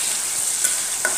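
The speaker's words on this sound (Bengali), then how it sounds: "তার মশলাগুলো কষিয়ে নিচ্ছি" Spices stir-fried in a hot pan for a curry, after fish has been fried, giving a steady close sizzle with a couple of brief scraping stirs.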